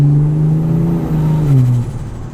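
A car pulls away hard on light throttle, its engine note rising steadily in pitch with a strong, close whine before easing off near the end, with no talking.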